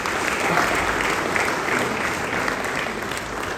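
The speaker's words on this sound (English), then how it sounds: "Clap for yourself." A room full of people applauding steadily, a dense continuous patter of clapping that holds at an even level throughout.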